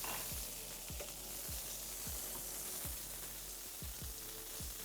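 Steak sizzling in a hot pan during basting, a steady bright hiss of frying fat with regular soft knocks every half second or so as the spoon scoops and pours, fairly quiet and close.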